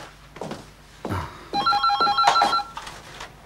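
A telephone bell rings in a bright, rapid trill indoors, following a few soft footsteps or knocks, then fades as the ringing stops.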